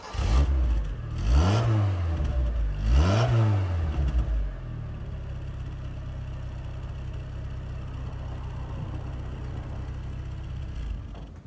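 A 1980s Proton Saga LE car pulls away, its engine revving up twice through the gears with rising and falling pitch, then settling into a steady, close mid-pitched hum.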